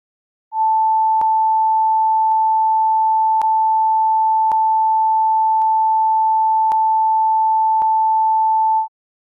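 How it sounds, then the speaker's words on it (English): An 880 Hz sine wave plays through room speakers as one steady, loud, unbroken pure tone for about eight seconds, with faint clicks at intervals. "playing an 880 Hz sine wave through speakers in your room"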